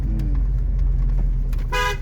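A car horn honks loudly near the end, a short blaring toot over the steady rumble of a car interior during a driving lesson.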